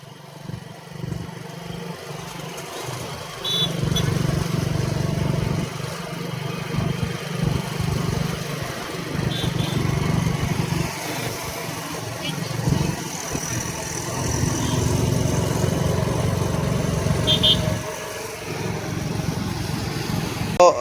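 A scooter or motorbike engine drones at steady mid revs on a road while one bike tows another by foot, the hum rising and holding with faint traffic and wind around it.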